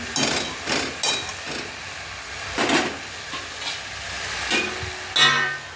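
Jute leaves cooking down in a pan on a gas stove for a thin curry, stirred with several distinct scraping strokes over a soft, steady sizzle, close and fairly loud, with no talking.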